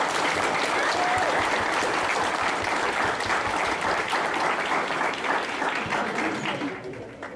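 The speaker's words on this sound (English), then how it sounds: "If you guys would give her a round of applause." A crowd at a hip-hop show applauds in a dense, sustained wash of clapping and cheering that holds steady for several seconds before tapering off at the end.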